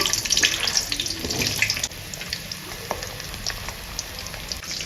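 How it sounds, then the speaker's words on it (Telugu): Drumsticks (moringa pods) fry in sunflower oil, giving a steady, close hiss and crackle with no talk, louder in the first two seconds before settling to a softer sizzle. "ఇప్పుడు ఫస్ట్ ఆయిల్లో ఫస్ట్ మునక్కాయలు వేసి వేయించుతుంది అనమాట ఇది మామూలు నూనె సన్ఫ్లవర్ ఆయిల్ వేసాము"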